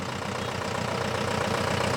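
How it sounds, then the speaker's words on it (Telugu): A decorated vehicle at a 76th Indian Republic Day celebration runs with a steady engine drone, idling and pulling away with a constant rumble and no talk. "తొలి అంకంగా అలంకరించబడిన వాహనం బయలుదేరింది."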